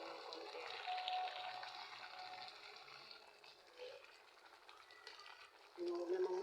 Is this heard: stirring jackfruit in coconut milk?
yes